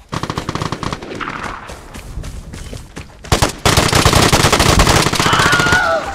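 Rapid automatic gunfire in the video game Vigor, bursts of loud close shots at first, then a dense sustained volley of fire that continues to the end.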